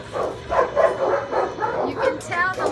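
Small dogs at an animal shelter yip and whimper in short bursts, close by, under a person speaking softly to them.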